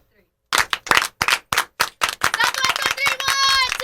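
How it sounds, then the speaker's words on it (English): Several people clap together in a live sports-talk radio studio, a run of sharp, uneven claps that speeds up and blends with voices and a brief whistle-like tone toward the end. "Clap, better clap."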